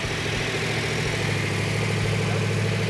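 A rebuilt 1970 Dodge Challenger engine idles steadily and close by, a loud, even, low rumble with constant vibration and no one talking.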